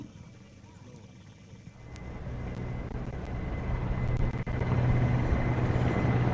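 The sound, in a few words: Mi-17 helicopters flying past in formation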